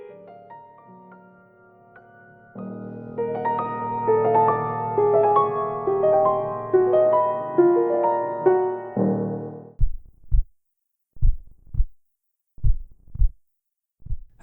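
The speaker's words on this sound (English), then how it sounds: "As I stood before her, my heartbeat began to slow." A slow heartbeat sound effect: after a sustained musical passage, low, deep thumps sound alone in pairs, spaced further and further apart as the beat slows.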